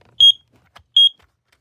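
Kidde i9010 smoke alarm gives two loud, piercing electronic beeps about three-quarters of a second apart, with a faint click between them and no talk.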